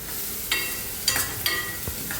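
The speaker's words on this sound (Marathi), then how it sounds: "आता हे पहिल्यांदा कांदा तळून घ्यायचा तेलामध्ये" Onion fries in hot oil for Kolhapuri misal, a steady sizzle with several short stirring scrapes and clicks from a spoon against the pan.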